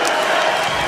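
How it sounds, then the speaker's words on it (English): Crowd at a Pokémon video game championship final roaring and cheering in a dense, continuous wash of sound, loud and sustained throughout. "This crowd is going crazy."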